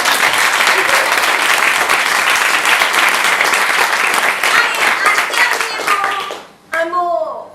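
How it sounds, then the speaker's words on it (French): Audience applause at an improv theatre show, a dense, steady burst of clapping from a live crowd that fades near the end, then a voice cuts in briefly. "On peut l'applaudir."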